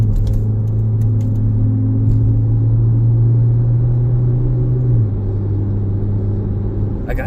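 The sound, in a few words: Jeep Patriot engine at half throttle on road test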